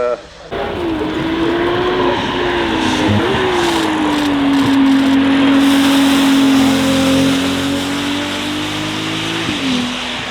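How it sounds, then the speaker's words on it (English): A BMW M3 Touring engine revs hard and accelerates uphill, rising pitch then holding a sustained high roar, with a gear change or lift near the end; loud and close. "boot goes down on the M3 Touring"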